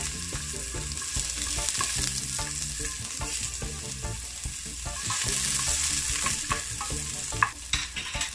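Garlic, ginger and onions fry in coconut oil in a pot, a steady sizzle broken by repeated scraping and stirring strokes, close and fairly loud with no voices.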